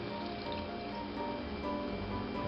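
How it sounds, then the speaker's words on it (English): Hot tap water runs steadily into a bowl of flour while dough is being started, a continuous close trickling and splashing with no talking. "Now, I'm going to use hot tap water."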